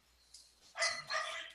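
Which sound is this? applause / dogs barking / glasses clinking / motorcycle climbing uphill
dogs barking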